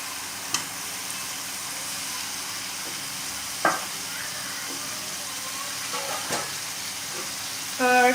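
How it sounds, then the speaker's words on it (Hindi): Desi chicken meat goes into a pot for a curry, and a steady broad hiss of frying and sizzling follows, with occasional clinks and stirring knocks close by and no talk. "अब मैं इसमें ये देसी मुर्ग का जो गोश्त है वो ऐड कर रही हूँ।"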